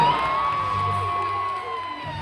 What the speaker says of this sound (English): One more time, round of applause for Zach.